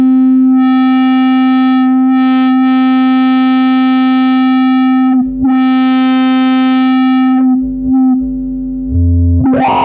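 Arturia MiniBrute analog synthesizer pushed into distortion by its Brute Factor control: a loud, sustained buzzy tone, steady and harmonically rich, briefly cutting out and changing near the end as settings shift.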